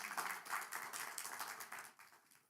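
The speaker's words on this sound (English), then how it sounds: "Let's give yourselves a round of applause for making it here today." Audience applause at a youth civic workshop, a steady burst of clapping from a room of people that rises, holds and fades away over a couple of seconds.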